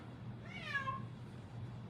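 A pet house cat gives a single clear, rising-then-falling meow, close by, against a quiet indoor room hum.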